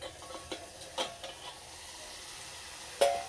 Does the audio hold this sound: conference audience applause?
no